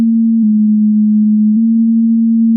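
A loud, steady low FM synth tone holds throughout, with operator 1 modulated by a triangle-wave operator 2. It sounds nearly pure and unchanging apart from two faint clicks.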